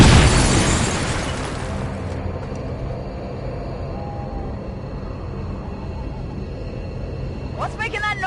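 A grenade blast in the video game XCOM 2: one loud, close boom that decays into a long, low rumbling tail, with a brief sharp rattle near the end.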